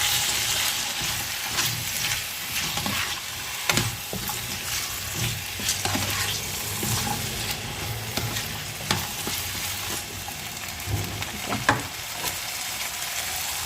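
Potatoes and ginger tossed in a hot pan for aloo palak sizzle steadily and up close, with sharp clatters and scrapes of stirring breaking through the continuous frying hiss.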